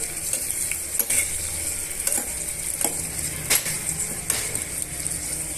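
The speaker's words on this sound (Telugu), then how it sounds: "ఒక రెండు మూడు పచ్చిమిరపకాయలని కట్ చేసి వేస్తున్నాను ఇవన్నీ బాగా మిక్స్ చేసుకొని వేయించేసుకుందామండి" Chopped onion and green chilies fry in a pan, giving a steady close sizzle, while a spoon scrapes and stirs in several distinct strokes.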